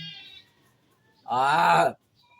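A single loud goat bleat sounds close by after a faint earlier call, with quiet between them.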